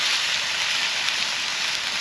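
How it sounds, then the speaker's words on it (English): Steady rain falls on a night campsite, a dense even hiss with no breaks, fairly close and alone without voices. "You can see it's raining."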